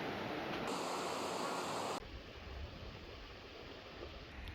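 Water rushes steadily along a mountain channel on a trek in Gojal, a continuous hiss that drops noticeably in level partway through and then carries on evenly.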